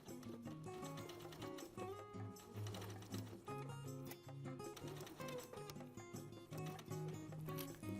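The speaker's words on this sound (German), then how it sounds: "Der Stoff wird nun mit 8 mm Kantenabstand an die Taschenkante genäht." A sewing machine stitches fabric along the edge of a jeans pocket, its motor whirring faintly and continuously with a rapid mechanical rhythm.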